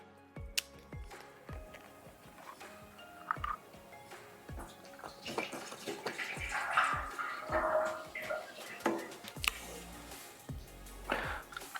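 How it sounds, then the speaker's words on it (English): Rust converter is poured into a washed, sealed fuel tank, giving gurgling liquid splashes and drips mixed with sharp metallic clicks and knocks from handling the tank, all fairly close. "Now we seal the tank again and pour the rust converter into the tank."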